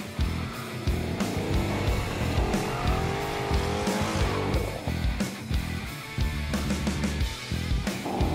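A 1970 Dodge Challenger R/T with a Hemi V8 cornering on a course, loud engine revving up and down with tire squeal, steady and close throughout.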